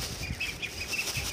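Pet pigeons feeding at close range, wings fluttering in several short bursts with faint chirps under steady background noise.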